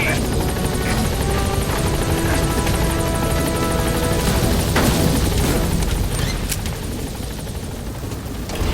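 Helicopter in the video game Metal Gear Solid 5, with loud, steady close rotor chop and turbine roar throughout, plus a brief thud partway through.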